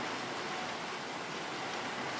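Rain falls as a steady, even hiss of dense droplets, soft and continuous with no other sounds.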